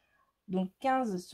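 A cat gives two clear meows close by, the second longer and rising, right after a few quiet spoken words.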